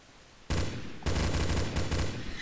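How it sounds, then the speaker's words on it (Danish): Dense bursts of rapid gunfire in Counter-Strike erupt after a brief quiet start, a loud sustained volley with a short break before firing resumes, no voices. "Hvorfor skyder jeg så mange skud?"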